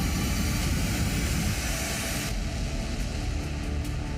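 A fighter jet roars overhead, a loud, dense, broadband engine rush filling the whole clip at steady strength with no voices.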